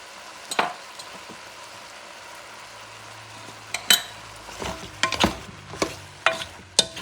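Tomato with turmeric and other spices sizzles softly in a pan while a utensil stirs it, making repeated sharp scrapes and clanks against the metal, close up and with no talking.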